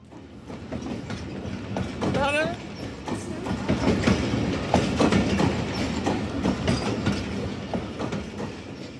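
The Karakoram Express rolls into a Karachi station with a steady rumble and clickety-clack of wheels, a brief squeal of metal, while someone talks over it.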